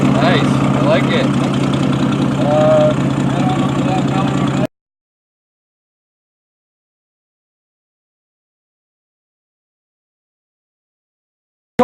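A car's Nissan Chrysler straight-six engine idles with a steady low hum at an outdoor car club show. People talk over it for about four seconds, and then the sound cuts to silence.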